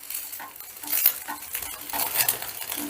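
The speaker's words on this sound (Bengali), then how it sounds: "ডিমটাকে এবারে আমি একটা খুন্তির সাহায্যে একটু বড় বড় টুকরো করে কেটে নিচ্ছি" A spatula scrapes and taps against a frying pan, cutting a butter garlic fried egg into large pieces, with light clinks over a faint sizzle.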